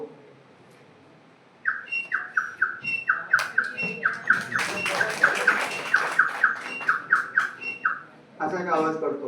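A person imitates the call of a tittar (partridge), voicing a long run of rhythmic, squawking, whistle-like calls, loud and close, ending in a rougher burst.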